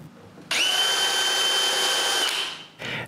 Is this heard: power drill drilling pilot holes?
yes